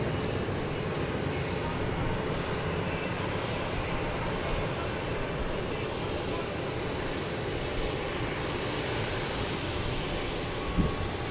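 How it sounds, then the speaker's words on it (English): A passenger jet bound for Iceland at Logan Airport gives a steady, fairly loud engine roar that drones evenly throughout. "I got my favorite plane."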